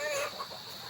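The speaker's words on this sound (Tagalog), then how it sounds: "sa kulungan ng manok. Napakaraming manok." Many chickens in a coop cluck and murmur softly in a steady, busy background din, with no single bird standing out.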